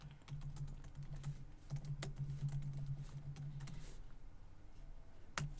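Typing a reply on a computer keyboard: a steady patter of light key clicks near the microphone over a low hum, ending with a sharper final keystroke.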